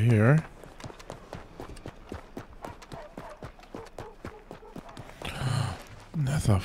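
Horse hooves galloping in Red Dead Redemption, a fast regular clip-clop of many hoofbeats close by, with a voice talking at the start and end over it.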